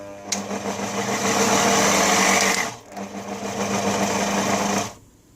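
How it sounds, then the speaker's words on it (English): A Silvercrest food processor from Lidl runs its blender attachment in two bursts: a loud, high motor whine with spinning blades for about two seconds, a brief pause, then another run of similar length before it cuts off. "So now I'll turn on the blender again"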